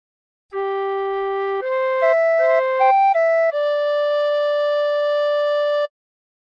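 A tin whistle plays a short phrase of the hymn What a Friend We Have in Jesus, clear, steady sustained notes stepping between pitches and ending on a long held tone, played alone.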